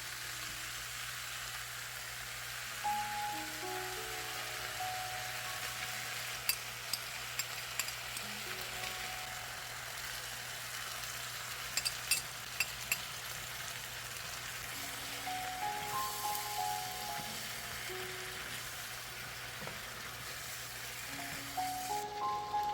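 Broccoli and cauliflower stir-frying in a pan with sauce, a steady broadband sizzle with occasional clinks and stirring scrapes of utensil against pan, moderately loud and continuous without speech.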